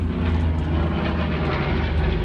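A B-25 bomber's piston engines drone steadily and loudly, with a dense low rumble and no talking.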